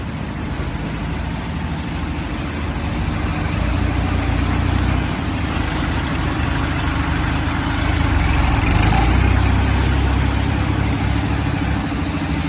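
A Kubota L4018 tractor engine idles steadily with a deep, even rumble that holds at a constant level throughout, close by and with no talking.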